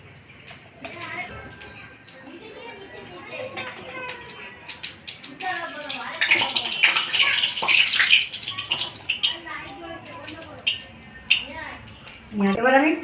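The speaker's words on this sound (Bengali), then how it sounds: "জিরে ফোড়ন দেবো এবার।" Cumin seeds are tempered in hot oil while a Bombay duck (lote fish) curry is being cooked, giving a rising hiss and crackling sizzle under ongoing talk.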